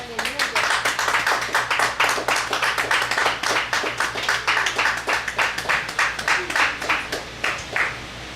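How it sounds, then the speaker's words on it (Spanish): A church congregation at a Spanish-language service claps in a fast, even, rhythmic unison, loud and close, for over eight seconds before the claps thin out at the end, with some voices mixed in. "Démele un aplauso al Señor."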